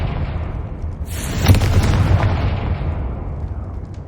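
A Confringo blasting spell goes off in the Hogwarts Legacy video game, a deep booming explosion that bursts suddenly and then rumbles and fades over a few seconds, with no talking.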